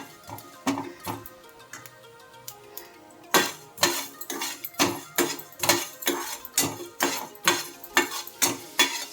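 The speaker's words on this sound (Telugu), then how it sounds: "ఇప్పుడు ఇవన్నీ దోరగా వేయించుకుందాం" Coriander seeds and masala spices roasting in a pan, stirred with a spoon: rhythmic scraping and clinking strokes, close and clear, slow at first then steady and regular.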